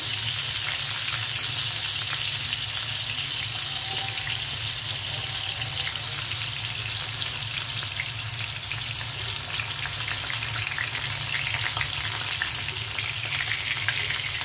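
Potatoes and eggplant fry in oil with a steady, dense sizzle that holds evenly throughout, close up and with no talking.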